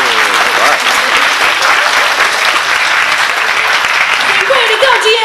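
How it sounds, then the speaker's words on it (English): A school assembly audience of scholars gives a loud, sustained round of applause for a student. The dense clapping is close and fills the whole stretch. Faint voices and cheers rise within it. "Scholars, please give a round of applause to Diego Sosa."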